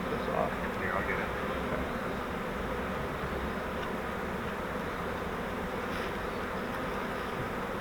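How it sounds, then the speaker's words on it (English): A swarm of honeybees hums steadily around a hive frame caught from a swarm trap, a dense close buzz that holds level throughout with a few brief louder flicks. "There's already less bees on this frame, so they've been moving down."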